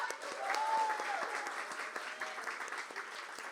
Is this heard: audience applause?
yes